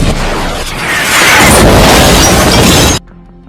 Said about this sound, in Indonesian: sebuah pasukan tiba-tiba menembakkan misil ke arah mereka